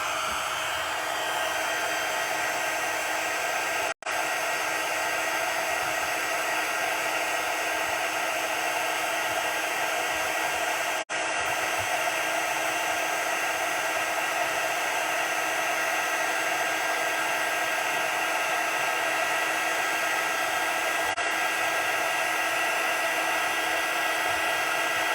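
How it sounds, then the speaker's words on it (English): A handheld heat tool dries embossing ink on a handmade card, blowing a loud, constant whooshing roar for a long stretch, broken only by a couple of tiny dropouts, with no speech. "bear with me a second while I use my lovely heat tool to set this"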